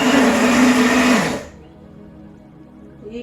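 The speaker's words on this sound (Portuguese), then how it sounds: "esse liquidificador é um liquidificador simples" A simple household blender whirs loudly while blending yam cream, a strong motor whine that stops after about a second and a half, leaving a low quiet hum.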